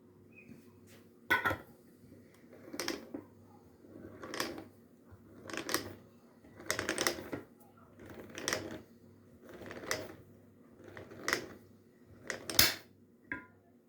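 Glass jars of marinated mushrooms being closed, with a series of about nine separate scraping, clinking twists of metal lids spaced roughly a second or so apart, close by in a quiet room.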